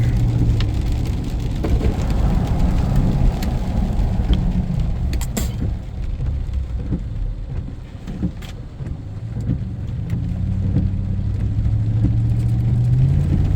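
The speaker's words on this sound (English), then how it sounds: "I don't feel like walking in the rain, so we'll just take a nice scenic ride, drive in rain" Rain pattering on a car driving a scenic route, a constant close hiss of drops over engine and tire rumble that dips briefly midway, with no talking.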